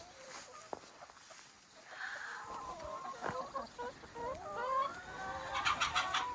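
Hens cluck and murmur in a cozy farm chicken coop in winter, overlapping calls rising and falling close by, growing busier toward the end.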